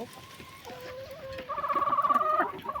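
Chickens clucking and calling while feeding on fish from bowls in a domestic yard; a few close, drawn-out hen calls that grow louder and busier halfway through, with soft background noise.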